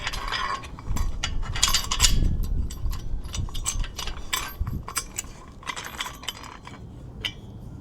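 A metal bolt, washer and nut are handled during solar street light assembly, producing scattered light clinks and metallic taps close by, with brief quiet pauses between them.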